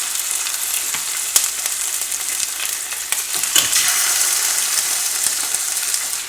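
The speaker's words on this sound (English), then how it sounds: "Place your chicken in there. Skin side down first. You're going to just brown it 4 minutes on each side." Chicken thighs sizzle skin side down in a hot pan, a steady close frying hiss with faint crackles and occasional small knocks, no voices.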